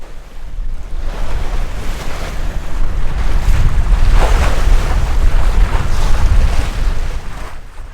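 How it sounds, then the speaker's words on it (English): Water rushes beneath the keel of a sailboat under way off the Belgian coast: a steady, loud, broadband wash with wind buffeting the microphone, swelling slightly midway, with no voices. "listening to the water rushing below Thula's keel again"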